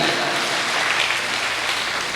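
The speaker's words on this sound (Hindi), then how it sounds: "एक बार अपने लिए दोनों हाथ हवा में उठाकर तालियां बजा दी।" Steady, loud applause from a crowd at a comedy poetry performance, a continuous dense roar of clapping with no pauses, heard without speech over it.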